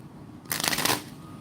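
A single quick riffle of a tarot deck being shuffled close up, a short crisp burst of flicking cards between quiet moments.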